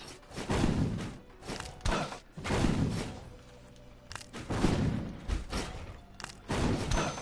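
Repeated dull thumps and bangs of a cat knocking against cupboard doors, coming in irregular bursts with quieter pauses between.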